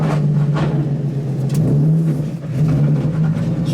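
A pro-am race car with a welded differential idles roughly on bad gas treated with octane boosters, a steady low engine drone with slight dips and unevenness, close and loud throughout.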